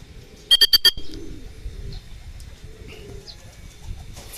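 Racing pigeons coo softly at a loft during a derby race, with low murmuring calls under four quick, sharp electronic beeps near the start and faint rustling, no talking.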